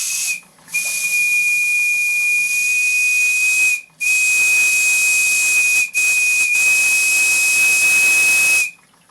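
The steam plant of the model steam tugboat Moulay-Idris gives off a loud, close hiss with a steady high whistling tone, cut by a few brief gaps before it stops.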